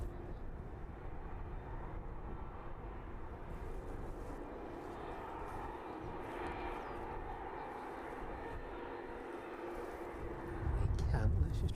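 An aircraft taxis out toward the start of runway 27 at East Midlands Airport on an evening, its engines giving a steady, distant broadband rumble that swells louder in the final seconds.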